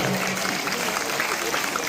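A crowd at a Ganesh festival gathering in Kalaburagi claps loudly and steadily throughout, while a voice speaks over the applause.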